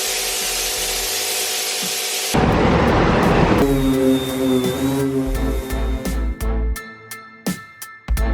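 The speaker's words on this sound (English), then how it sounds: "I love this little sander" A small power sander grinds against the metal of an S10 truck cab, a loud, close, rasping buzz that cuts in and out in short bursts, with whining tones as the tool speeds up.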